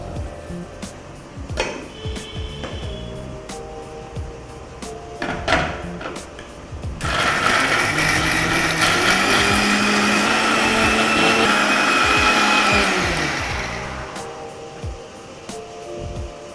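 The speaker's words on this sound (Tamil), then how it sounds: "இது எல்லாத்தையும் சேர்த்து ஒரு நைஸ் பேஸ்ட்டாக வந்து அரைச்சிக்கணும்" A mixer grinder whirs loudly grinding masala into a fine paste with water for several seconds before winding down, preceded by quieter clinks and handling sounds.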